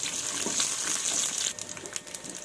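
Tempering of spices frying in hot oil in a pan for a green mango pulusu, giving a steady loud sizzle that eases and turns patchier after about a second and a half.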